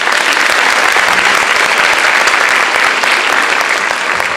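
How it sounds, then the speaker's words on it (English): A large audience at a KEA rally breaks into loud, sustained applause, a thick, even roar of clapping hands that carries on continuously from start to finish. "I want to give her a big round of applause for that"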